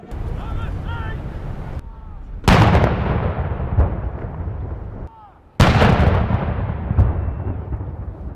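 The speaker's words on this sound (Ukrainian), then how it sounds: "6 лютого у Лондоні пролунали гарматні залпи" Ceremonial artillery salute fired in London near Tower Bridge by a reserve regiment for the Queen's accession anniversary: two loud booming shots a few seconds apart, each rolling and echoing away, with some faint voices between.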